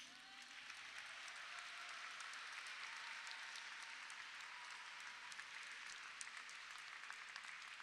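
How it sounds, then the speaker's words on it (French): An audience at a school pastoral event applauds a musical group, a dense, even wash of clapping that holds steady for nearly eight seconds at a moderate, slightly distant level. "Je vous propose aussi de bien les applaudir."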